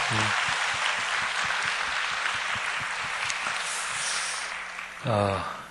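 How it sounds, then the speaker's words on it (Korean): Congregation applauding during a Korean church worship service, sustained dense clapping that fades slightly before a voice begins speaking near the end. "박수 한번 하겠습니다"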